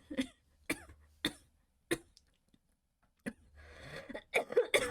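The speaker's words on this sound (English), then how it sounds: "What a time for a coughing fit." Repeated coughing fit in an animated show: four or five sharp, evenly spaced coughs, then a pause, another cough, and then a burst of rough, breathless throat sounds at the end.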